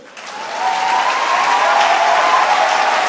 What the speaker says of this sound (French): Ah, acclamez Dieu.